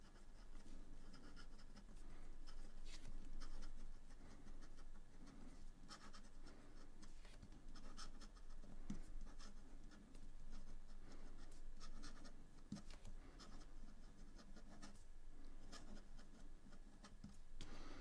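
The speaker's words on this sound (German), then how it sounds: "wie er jetzt hier über das Papier gleitet" A LAMY AL-Star fountain pen with a hard medium steel nib scratches across heavy 160 g Clairefontaine paper, a faint, close, continuous papery rasp with short strokes and pauses throughout.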